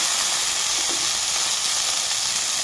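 Paneer fries lightly in a pan for a vegetable dal, giving a steady, close, bright sizzle and hiss that carries on evenly throughout with no voices.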